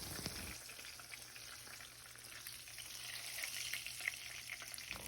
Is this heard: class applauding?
no